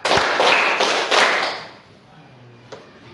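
Schoolchildren in a class clap their hands four times in unison, sharp group claps in quick succession, followed by a quiet pause and one faint tap.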